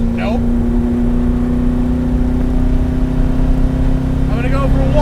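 A modified 1966 Alfa Romeo Giulia GT engine holds a steady, loud drone at full throttle in fourth gear, sustained across the clip with brief voices near the start and end.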